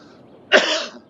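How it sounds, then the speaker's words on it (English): One sharp, close cough that bursts out abruptly and trails off quickly after a quiet lead-in. "Excuse my coughing"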